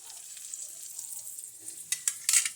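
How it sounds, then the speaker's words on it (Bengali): Potatoes frying in a pan make a soft, close sizzle, followed near the end by a few sharper stirring clatters. No voices. "লাল লাল করে আলুগুলো ভাজবো"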